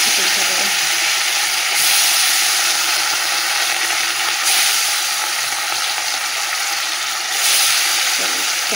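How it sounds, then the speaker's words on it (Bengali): Fish frying in hot oil in a home kitchen, a steady loud crackling sizzle that runs throughout with brief swells, alone without voices. "এই যে মাছ ভাজা বসিয়ে দিচ্ছি এদিকে"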